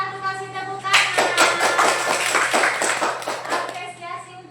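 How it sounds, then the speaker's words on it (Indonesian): Schoolchildren in a classroom clap for group 1, a burst of quick, uneven hand claps that starts abruptly and continues for a few seconds over background tones, with children's voices mixed in. "Nah, ini apresiasinya untuk kelompok 1, kasih tepuk tangan."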